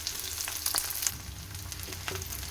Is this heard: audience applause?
no